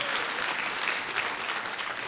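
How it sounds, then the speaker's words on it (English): Dense, steady applause from a large audience at a 2008 Star Trek Online webcast event, loud and continuous throughout. "Yes, applaud, please."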